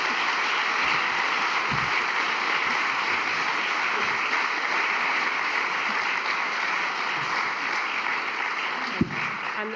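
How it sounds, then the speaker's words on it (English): Sustained applause from a lecture audience thanking a panel at an annual MS charity event, a steady dense wash of clapping across the whole stretch with one brief spoken word. "Can we give a round of applause to our fantastic panel?"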